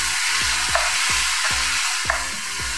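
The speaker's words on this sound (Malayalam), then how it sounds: "നമുക്ക് വെളുത്തുള്ളി ഇഞ്ചി പേസ്റ്റ് ഇടാം, ഗ്രീൻ ചില്ലി ഇടാം. നന്നായി വഴറ്റാം." Garlic ginger paste and green chili are sautéed in a pan with a loud, constant sizzle. A spoon stirs and scrapes in a steady rhythm, giving several short low knocks.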